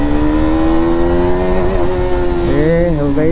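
A KTM RC 200 single-cylinder motorcycle engine revs up as the throttle opens, a loud, close, steady harmonic drone whose pitch climbs and wavers, then dips and rises again near the end.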